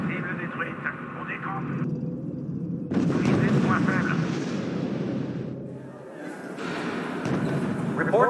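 Artillery bombarding a V2 rocket target in the strategy game RUSE, heavy booming barrages rumbling in waves beneath radio-style voices talking.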